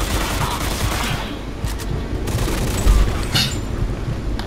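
Rapid, sustained gunfire in the video game Mafia II, a dense continuous roar of shots with a few sharper cracks standing out, loud and close throughout.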